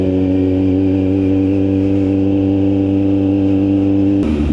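A Kawasaki Z900 motorcycle with a loud aftermarket muffler idles steadily, a deep, rumbling engine note heard up close and loud, with a brief shift in tone near the end as it starts to move.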